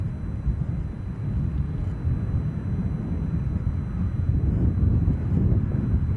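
An aircraft departs Edinburgh airport, heard as a steady low jet roar that holds and slightly builds, distant-sounding with some wind buffeting and no voices.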